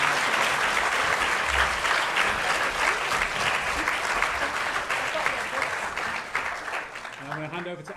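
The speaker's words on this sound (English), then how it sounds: "can we have one last round of applause for Jeanette?" Sustained applause from a large crowd at a university library conference plenary session, steady and dense throughout, tapering slightly at the end as a voice begins to speak.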